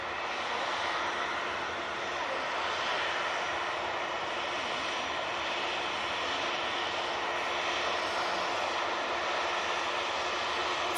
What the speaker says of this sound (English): Next out, we've got the ET Fairway 737 flying on behalf of Jet2.